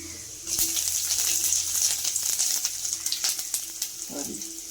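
Finely chopped ginger dropped into hot oil, a sudden burst of close, loud sizzling that settles into a steady fizzing crackle with sharp spits, a brief stir or clatter near the end.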